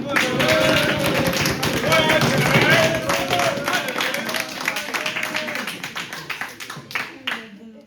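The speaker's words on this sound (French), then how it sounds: "on peut faire un tonnerre d'applaudissements pour Azel" Audience at a debating contest gives a thunderous round of applause for a new speaker, sustained at first and then thinning to scattered claps, with voices and cheering mixed in.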